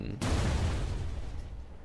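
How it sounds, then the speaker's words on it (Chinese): A grenade explodes in the Death Incoming video game: one sudden booming blast after a short quiet moment, followed by a rumbling decay that fades over about a second and a half. "然后要爆炸，对不对？"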